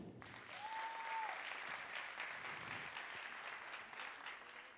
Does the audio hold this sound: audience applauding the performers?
yes